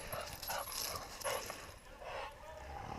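Hunting dogs on a hog hunt whimpering outdoors, a few short, high whines repeating at about one-second intervals over a steady background hiss.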